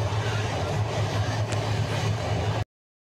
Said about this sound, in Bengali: দেখুন পদ্মা সেতুর উপরে ট্রেনের গতি।